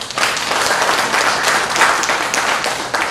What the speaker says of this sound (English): Let us clap for that.